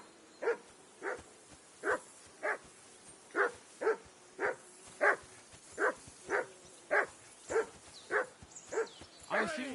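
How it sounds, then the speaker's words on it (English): A dog in the video game Kingdom Come Deliverance II barks over and over, roughly a dozen sharp, evenly spaced barks at a steady rhythm, fairly close and clear above a quiet background. "I assume you can hear that damn dog of yours barking."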